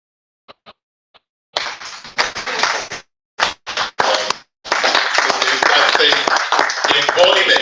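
Audience applause at an award ceremony and public lecture: a few scattered claps at first, then several loud bursts of clapping that swell into sustained applause from a crowd.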